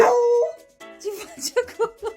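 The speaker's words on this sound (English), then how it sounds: "Dog was playing with the bed sheets and got stuck in one." Dog tangled in bed sheets it was playing with, giving a drawn-out whine followed by a string of short yips and muffled whimpers, close by.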